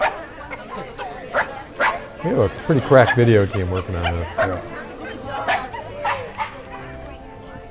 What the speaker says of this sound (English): Dog's getting excited.